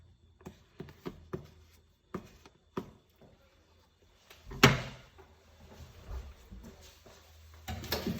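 Freezer door opened to stow a batch of ice cream from a Lidl Silvercrest SEM 90 ice cream maker, heard as a string of close knocks and clicks, one sharp clunk, then rustling handling noise in a quiet kitchen.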